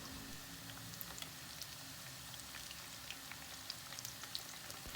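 Eggplant slices frying in hot oil over high heat, a steady soft sizzle and crackle with scattered pops, fairly quiet and close, with no talking.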